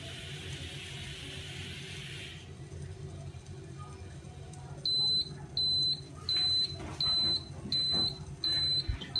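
Repeated electronic beeps from a Cookbot cooker finishing tea, in a regular on-off pattern, about six in a row, after a hissing noise stops, with faint background sounds.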